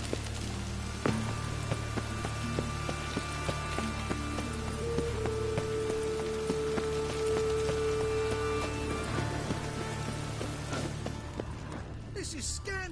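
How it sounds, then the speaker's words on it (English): Steady rain in The Witcher 3 patters on a hard surface, with scattered drips and a faint mechanical hum, dense and continuous throughout. "Looks like rain."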